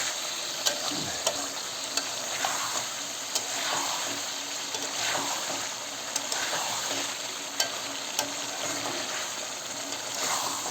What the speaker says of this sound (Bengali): আমি কিন্তু মাংস কষাচ্ছি